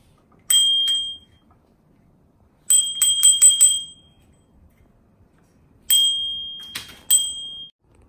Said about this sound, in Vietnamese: Rồi Nì bấm chuông đi.